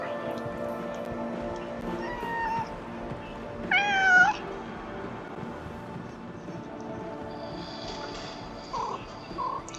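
A cat gives one brief meow partway through, close but not loud, over steady background noise and faint talk.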